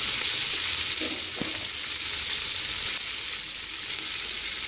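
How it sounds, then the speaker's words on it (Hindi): Steady, hissing sizzle of spices, ginger garlic paste and green chili frying in a hot pan over medium heat for chicken yakhni pulao, continuous and close, with a couple of faint stirring scrapes early on. "दरमियानी आँच पे मैं इसे अच्छी तरह भून रही हूँ"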